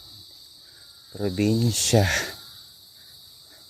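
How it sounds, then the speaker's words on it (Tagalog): Crickets chirping along an empty provincial road in Mariveles, a steady high-pitched trill heard throughout, with someone briefly speaking over it midway. "puro kuliglig lang naririnig natin"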